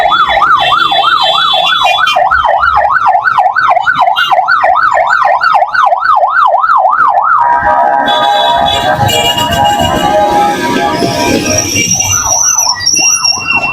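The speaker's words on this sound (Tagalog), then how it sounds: "Grabe naman yung busina ng ambulansya na yun." A loud wailing ambulance siren warbles rapidly up and down on a busy street in Taguig, Philippines, then shifts into a jumbled burst of tones and traffic noise before the warble returns.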